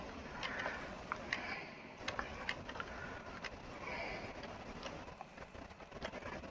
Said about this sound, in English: Horsey, come on, horsey.